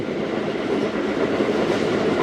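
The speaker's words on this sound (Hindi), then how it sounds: "92-93 किलोमीटर तक स्पीड ट्रेन ने पिक की हुई है अभी तक।" The Zakariya Express passenger train runs between Kotri and Karachi at about 92–93 km/h, giving a steady, loud rolling rumble with rhythmic wheel clatter on the rails and no voices.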